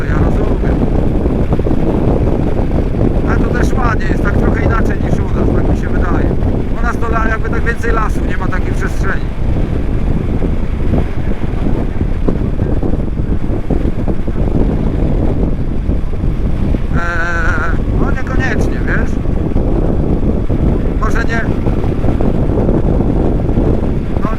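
Constant loud low-frequency roar and thumping inside a motorcycle helmet at speed on a Yamaha Tracer 9 GT, buffeting rather than wind noise, with occasional muffled voices breaking through.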